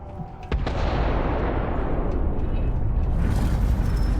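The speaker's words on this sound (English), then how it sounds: "Was that an explosion?" Detonation blast in the video game Starfield: a sharp boom at about half a second opens into a loud, sustained roaring rumble that fills the rest of the clip, with no talking.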